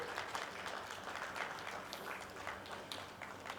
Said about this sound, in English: Let's welcome him with a round of applause as he joins us here.